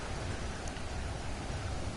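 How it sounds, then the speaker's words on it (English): A rainstorm in the survival game Stranded Deep, dense steady rainfall hissing evenly and close throughout without any distinct thunder. "Of course, it rains, it storms, it pours."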